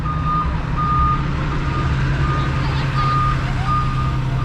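Truck reversing beeps on a busy town street in Rakiraki, Fiji: evenly spaced electronic beeps repeating over a constant rumble of engines and traffic noise, moderately loud throughout.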